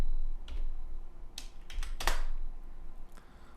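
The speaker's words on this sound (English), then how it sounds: "So I type in width." A handful of sparse keystrokes click on a computer keyboard while code is typed in Dreamweaver, each one crisp and close, with short pauses between them.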